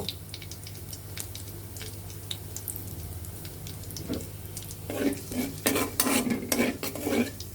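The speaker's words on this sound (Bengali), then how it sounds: "আমরা এখন তেলের মাঝে আমরা গোটা কয়েক জিরে দিয়ে দিব" Cumin seeds fry in hot oil with a faint, steady sizzle and light ticking, then loud metal stirring and scraping against the pan builds up in bursts toward the end.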